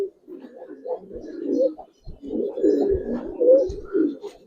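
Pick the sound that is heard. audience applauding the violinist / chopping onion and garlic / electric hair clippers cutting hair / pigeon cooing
pigeon cooing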